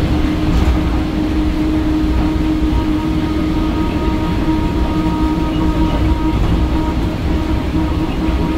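Mumbai monorail train running, a steady loud rumble and hum of the carriage in motion throughout, heard from on board with no talking.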